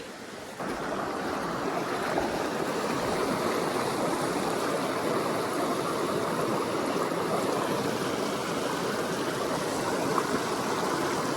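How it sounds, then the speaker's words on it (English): Rushing creek water in a remote corner of South Carolina flows in a constant, full burble and hiss, steady and fairly close, with no voices. "it's a pretty good sized little creek"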